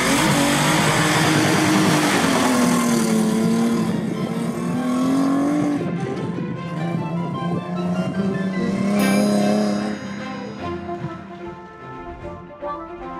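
A Ford Transit van fitted with a 2.9 24-valve Cosworth V6 and rear-wheel drive revs loudly up close, its engine note climbing and falling, then easing off into a quieter idle-like rumble.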